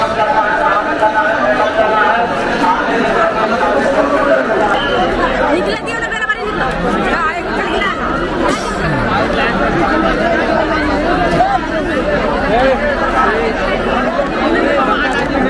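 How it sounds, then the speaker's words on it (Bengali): A dense crowd chatters loudly at Prayagraj railway station during the Kumbh, many overlapping voices forming a continuous close babble on a crowded platform and flyover area. "ফ্লাইওভারের উপর ভিড়।"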